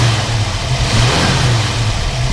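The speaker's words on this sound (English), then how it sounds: "Go ahead and rev it up a little bit. You can hear it runs nice." A 1968 Ford Mustang fitted with a Holley Avenger carburetor, Edelbrock intake and Mallory ignition revs in a loud, steady, close engine drone with a strong low rumble and gentle swells in pitch, with no talking.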